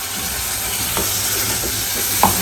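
Coconut and onion paste hits a hot pan in a home kitchen, giving a steady close sizzle and hiss with a few soft stirring scrapes and clicks throughout.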